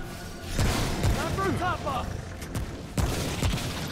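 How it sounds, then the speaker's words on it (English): Several loud gunshots boom from weapons in the video game Remnant during a boss fight, a couple of heavy blasts spaced apart, with a brief voice and game sounds between them. "Alright, I'm gonna shoot the other one."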